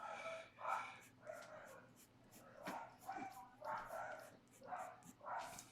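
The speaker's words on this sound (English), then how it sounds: "I'm very sorry if you guys can hear my dog barking." A dog barks and whimpers repeatedly in bursts, likely at a mail delivery, sounding muffled and somewhat distant from another room.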